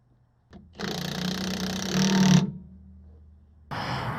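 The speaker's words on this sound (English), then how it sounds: "as soon as the impact gun hits the end, I stop." An impact gun tightens a pinion nut against a crush collar: a loud, close burst of rattling hammering for about a second and a half, then a winding-down whir, a pause, and another short burst.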